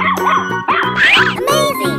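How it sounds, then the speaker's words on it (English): A cartoon dog barks in a bright, tonal, repeated yapping pattern over looping children's music, several short barks in quick succession. "Dog."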